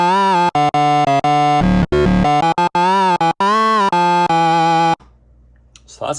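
A synthesizer patch built from several synced, rearranged oscillators plays loud, buzzy, harmonically rich notes in choppy bursts and sustained stretches, then cuts off into near silence.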